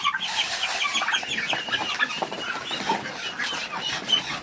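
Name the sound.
ducks and poultry calling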